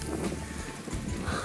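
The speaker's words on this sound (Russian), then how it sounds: "Дождь. Дождь пошел," Rain beginning to fall outdoors on dry, hard-packed ground, a dense, steady patter of drops filling the brief moment with broadband hiss, fairly close and without talk.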